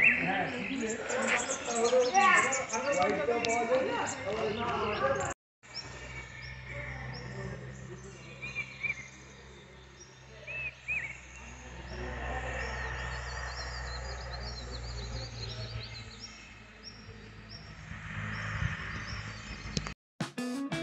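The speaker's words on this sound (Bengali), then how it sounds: "প্রকৃতির ভিউ, শান্তশিষ্ট পরিবেশ এবং অসাধারণ কিছু পাখির ডাক। তোমরাও শোনো মন দিয়ে।" Birds call in the quiet hill setting of Lepchajagat, a busy burst of close chirps at first, then fainter scattered calls over a low hum, with people speaking at times.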